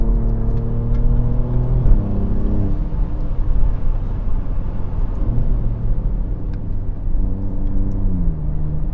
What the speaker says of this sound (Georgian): აქაც ელექტრონული ფრთები აყენია, რომელიც ხსნის გამშვებზე და უფრო დიდი ხმა აქვს, რა თქმა უნდა, მანქანას